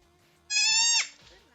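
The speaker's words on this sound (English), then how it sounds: "This is baby goat." A newborn goat kid, a day old, lets out one clear, high, wavering bleat lasting about half a second, close and loud against a quiet background.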